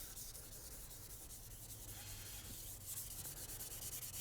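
Light scuff sanding across the finish on the back of a guitar neck, a steady soft rubbing with very gentle pressure, continuous and quiet throughout with no talking.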